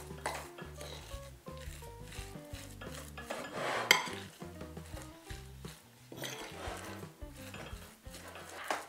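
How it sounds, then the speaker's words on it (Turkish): A spoon stirs a dough mixture with sesame seeds in a bowl, giving soft, irregular scraping and clinking strokes that come up close and fairly quiet, with no talk. "Hepsini çok güzel bir şekilde karıştırıyoruz."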